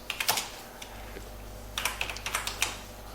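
Computer keyboard typing in two short bursts of quick, crisp keystrokes with a pause between, entering commands in XFOIL airfoil simulation software, close and alone against a low steady hum.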